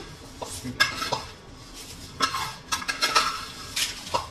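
Fried vermicelli goes into a pot of partly cooked rice, with intermittent metallic clinks and scrapes of a utensil against the pot and soft rustling, fairly faint.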